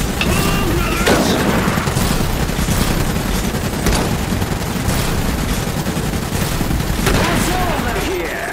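Suppressive gunfire rattles through a battle in the game Iron Harvest, continuous loud volleys and bursts with occasional heavier booms, while voices shout over the fighting.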